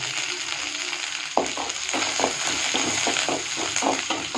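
Shallots, curry leaves and dried chilies sizzle steadily in hot oil, with a sudden burst as the pan is stirred and a crackling fry that keeps going up close.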